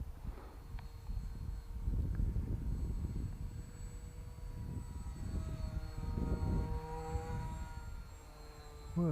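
A foam RC plane's electric motor and propeller run at half throttle, a steady airborne whine with rising and falling tones as it passes, loud and continuous throughout against outdoor wind noise.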